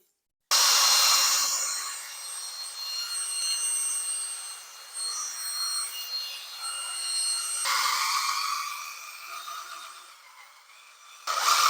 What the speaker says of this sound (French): On va commencer par remuer la peinture.